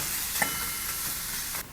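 Chopped tomatoes cooking in oil for a soya chunk curry, a continuous loud hissing sizzle with a faint scrape partway through, no talk, cut off abruptly near the end.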